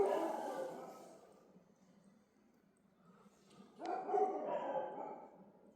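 A dog barks near a forest homestay by Jim Corbett, in two loud bursts a few seconds apart with a quieter lull between them, fairly close and without talk.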